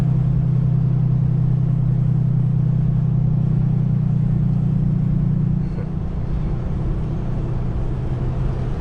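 A 2017 Ram 3500 with a Cummins diesel engine and a Banks air intake rumbles loudly with a steady low drone, then the tone drops and settles into a rougher idle partway through.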